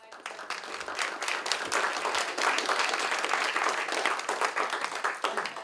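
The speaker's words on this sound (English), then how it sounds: "please give our legislators a round of applause" An audience at a chamber of commerce legislative review applauds its legislators, dense clapping rising quickly and sustained at a steady level throughout.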